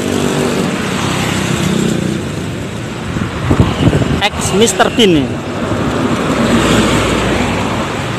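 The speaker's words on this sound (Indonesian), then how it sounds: "Datang lagi dari timur ada Garuda Mas tanpa julukan" A Garuda Mas Z-Bus 2 Plus passes along a road amid steady traffic noise, its rumble swelling and fading over several seconds, with a horn-like tonal burst near the middle and someone talking over it.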